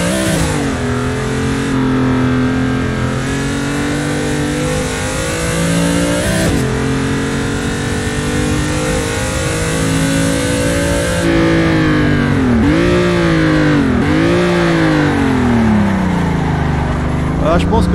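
A car engine drifting in a racing video game, held at high revs throughout with rising and falling pitch swoops near the end, loud and continuous.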